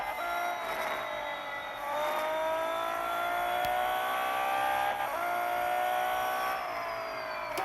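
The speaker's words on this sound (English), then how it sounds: "And then you hear that whining electric motor from Lotus, like on the other side of the circuit" Race cars lapping a medium-short circuit in a racing video game, engines revving and tires squealing, with the high whine of a Lotus electric motor sweeping across from the far side of the track.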